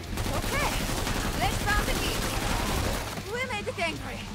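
Semi-auto gunfire in Killing Floor 2, a steady stream of crackling shots with several sharp cracks standing out over constant game noise, while someone talks throughout.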